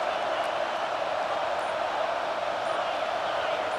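A stadium crowd roars in EA Sports College Football 26, a dense continuous wash of cheering that holds steady and loud throughout, with no distinct individual voices.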